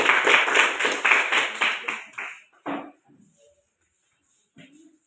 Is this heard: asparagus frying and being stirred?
no